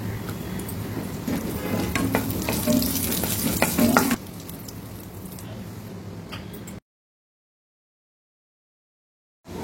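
Steady sizzling and crackling of raisins, cashews and crushed almonds frying in hot ghee with occasional stirring, the sizzle dropping in level before cutting to silence.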